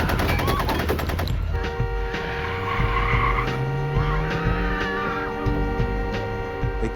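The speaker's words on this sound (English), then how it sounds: "the killers pulled up next to them on the street and opened fire" A drive-by shooting on a city street opens with a rapid, loud burst of gunfire. The burst then gives way to a car engine's hum and a rising tone under steady background sound.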